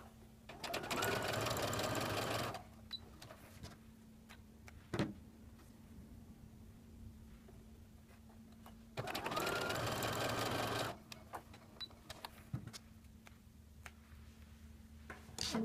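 A sewing machine stitching quilt frame seams at a quarter-inch allowance runs in two loud bursts of about two seconds each, separated by quieter handling clicks and a low steady hum.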